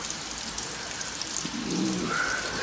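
Steady rain patters down outdoors during a barbecue cooking steak, a dense continuous hiss with faint scattered drops and a brief chirp-like sound near the end, no one speaking.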